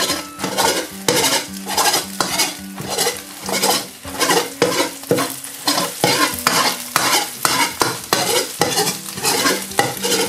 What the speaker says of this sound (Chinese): 我们再把鸡蛋呢给它翻过来面，再煎至另外一面